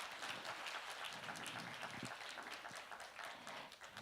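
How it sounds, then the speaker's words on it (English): Faint applause from a forum audience for a panel, a soft, steady crackle of many hands clapping that continues without pause. "let's show our appreciation with a big round of applause"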